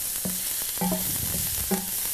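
Mushrooms sauté in a pan for pasta with sun-dried tomatoes, a close steady sizzle broken by a few short stirring squeaks and scrapes, with no voices.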